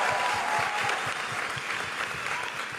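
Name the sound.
congregation applauding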